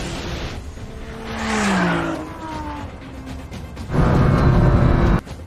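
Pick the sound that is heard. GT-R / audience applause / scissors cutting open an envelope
GT-R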